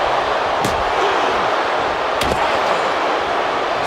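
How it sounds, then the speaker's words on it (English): Kendo stick blows in a WWE 2K wrestling match between Roman Reigns and Jacob Fatu, a couple of sharp cracking impacts cutting through a loud, dense crowd roar. "You can't go wrong with the kendo stick. Ooh, a vicious shot right to the dome."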